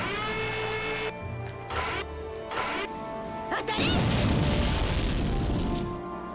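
Tank cannon blasts in the video game Valkyria Chronicles II: several heavy booms and crashes over a droning game soundtrack, ending in a long, loud rumbling explosion.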